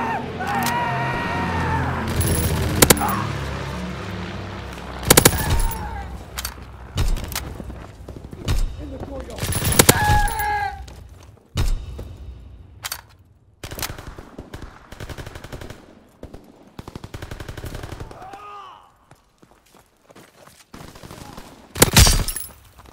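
A suppressed M1928 submachine gun fires in Call of Duty: WWII, in short sharp bursts scattered between quieter gaps, amid other battle effects and occasional voices.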